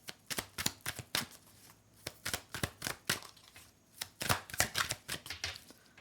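Tarot cards are shuffled in quick, crisp bursts of riffling and slapping, close up and fairly loud, with short pauses between rounds and no talking.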